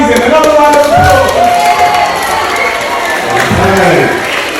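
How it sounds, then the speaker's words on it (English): A second burst of audience clapping and cheering for a teenage volunteer at a school talk, loud and continuous throughout with crowd noise mixed in. "Amazing, another round of applause."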